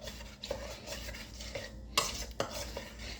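A spoon stirring muffin batter in a mixing bowl, with soft scraping swishes and a couple of brighter knocks against the bowl, quiet and close.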